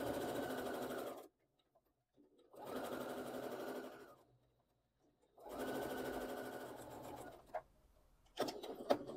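Sewing machine stitching a seam with reverse stitching on broderie anglaise fabric, three steady bursts of close whirring with short pauses between, then a few clicks and a brief restart at the end.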